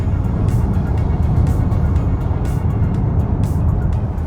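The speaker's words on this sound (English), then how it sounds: "we're gonna head to our vehicle and hit the road" A car drives along a road, heard from inside as a loud, steady rumble of engine and tire noise that never lets up.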